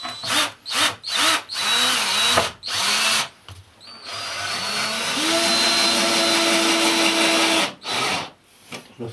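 Power drill driving a screw into a wooden floorboard during floor restoration in an isolated mountain cabin, with several short revving bursts followed by one long steady whirring run, loud and close.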